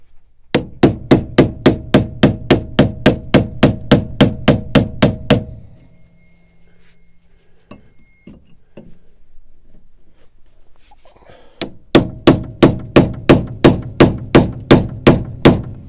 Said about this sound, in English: So I'm going to take this old framing hammer